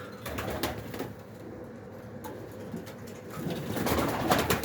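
Pigeons of Iranian and Baku breeds, young birds kept in a loft, coo in low murmurs. A steady rustle of the flock runs throughout, with a few sharp clicks and the cooing swelling toward the end.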